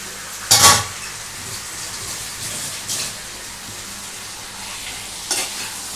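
Marinated boneless chicken fries with a steady, loud sizzle in a pan, broken by a few sharp scrapes of a spoon as it is stirred and turned, with no one talking.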